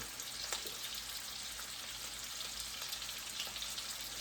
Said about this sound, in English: We're going to let these sausages brown up a little bit.